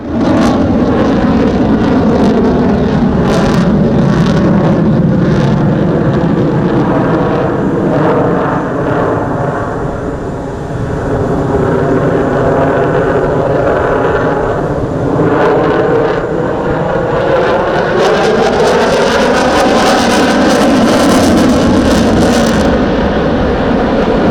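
Sukhoi jet performing a low-speed handling display at the Dubai Airshow, a loud continuous engine roar that swells and shifts in pitch as it passes, alone with no talk.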